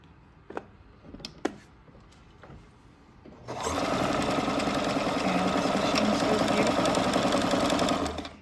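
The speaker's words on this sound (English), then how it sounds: "As you're sewing along, it does a nice straight stitch" A vintage Kenmore 1040 sewing machine sews a straight stitch, starting after a few quiet handling clicks with a loud, steady, rapid mechanical whirring and chatter that runs close and continuous for about five seconds before stopping.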